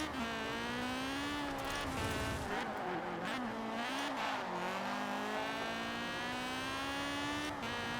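A tuned car on a winding touge mountain road in Forza Horizon 4 holds a steady, loud engine drone, its pitch rising and dipping through corners, with occasional brief tire squeals and no voices.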